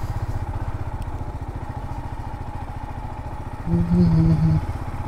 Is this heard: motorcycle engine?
yes